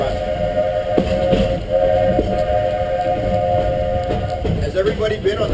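A train horn sounds near a level crossing, a sustained steady blare held for several seconds over rumbling rail noise, loud and fairly close, with occasional voices underneath.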